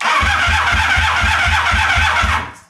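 A cheap Craigslist motorcycle with no spark cranks over without catching, a loud, even chugging starter rhythm of about eight beats that winds down and stops at the end.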